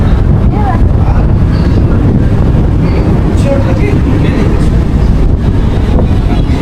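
Steady wind roars and buffets the microphone throughout, a constant low rumble with faint distant sounds underneath.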